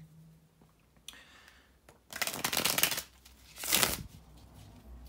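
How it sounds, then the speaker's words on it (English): Tarot cards are riffled in two quick, crisp bursts close to the microphone, with soft handling noises before and between them. "bear with me a second, guys, to shuffle the tarot cards"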